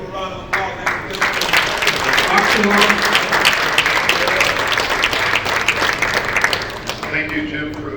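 An audience at a 1 Million Cups entrepreneur event gives a round of applause after a presentation, clapping that swells quickly, holds loud and dense for several seconds, then tapers off.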